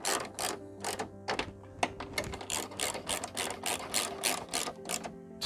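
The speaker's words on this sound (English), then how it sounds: "Now we're gonna tighten the screws." Screws being tightened on an Isuzu truck turn signal light, with rapid close-up ratcheting clicks in steady bursts and almost no pauses between them.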